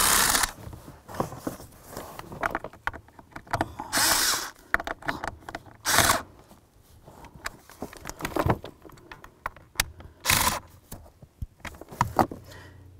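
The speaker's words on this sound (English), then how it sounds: "Start in any of the screws that you can, and then we'll bottom them out once we get them all started." A power driver runs screws into a 2005-15 Toyota Tacoma blower motor, with short bursts of whirring and ratcheting clicks between quieter handling noises.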